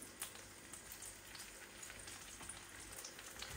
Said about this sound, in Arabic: انا رايحين نقليو لي زونديف ونقلي الشلاده تاعي